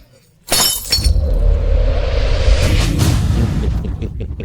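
An antique object falls and shatters, a loud sudden crash of breaking glass or ceramic with scattering fragments that rings on for several seconds, with no talk over it.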